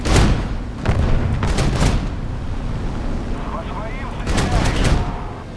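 Aircraft guns firing in War Thunder, heard as loud bursts of rapid gunfire with booming reports, a few separate volleys close up and mixed with game noise.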